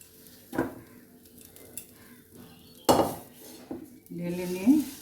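Pots and pans clatter in a kitchen as a fried fish-kofta mixture is poured out of a pan: a few sharp metallic clanks spaced out, with a light scraping and a faint sizzle between them.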